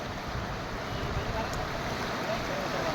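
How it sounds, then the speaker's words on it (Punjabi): Fast-moving floodwater rushes past a flooded village, a steady broadband roar of churning water with wind buffeting the microphone, loud and continuous throughout. "ਇੰਨੀ ਸਪੀਡ ਨਾਲ ਪਾਣੀ ਜਾ ਰਿਹਾ"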